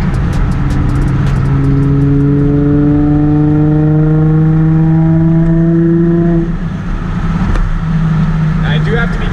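A car with Work VS-KF wheels drives past at night, its engine note rising in a loud steady drone with harmonic whine, then fading.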